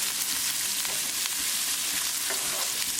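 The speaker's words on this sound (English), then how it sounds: "Keep it moving and keep cooking until the onions are nicely translucent." Chopped onions fry in hot oil with cumin, a dense continuous sizzle with scraping stirs breaking through, loud and close, no voices.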